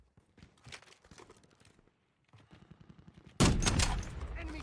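Gunfire in Warzone 2.0, a burst of rapid shots up close followed by a sudden loud, sustained blast of noise, with quieter clicks and footfall-like taps before it.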